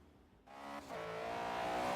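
A Honda EP Civic Type R in the racing game Forza Horizon 3 accelerates, its engine note rising into a loud sustained rev with a hint of tire noise, no voices.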